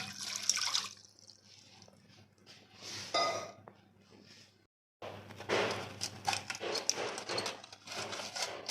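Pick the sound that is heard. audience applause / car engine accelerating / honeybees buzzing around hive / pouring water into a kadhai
pouring water into a kadhai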